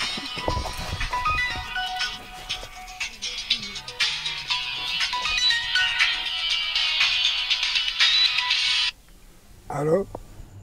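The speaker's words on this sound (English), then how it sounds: "Oh, the phone." A telephone rings in a home in Namibia, a continuous bright electronic ring that carries on for several seconds before cutting off, while people talk over it.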